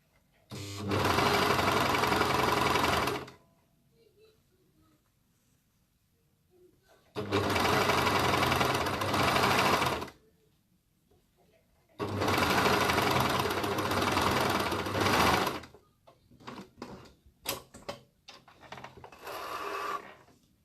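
Sewing machine stitching in three long bursts of steady loud whirring during a live sewing session, separated by quiet pauses, followed by a few short stop-start pulses.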